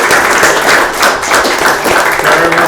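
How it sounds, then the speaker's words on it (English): A city council meeting audience applauds, a loud, continuous wash of many hands clapping together for a few seconds. "Give them a round of applause before they head out."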